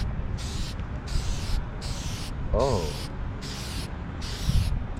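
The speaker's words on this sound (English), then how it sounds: "I'm gonna spray the little clear coat." Short bursts of spray from an aerosol can of clear coat, applied to a cleaned headlight on a Honda S2000, hiss in a steady repeating rhythm of about seven puffs, close and moderately loud, with a brief spoken exclamation partway through.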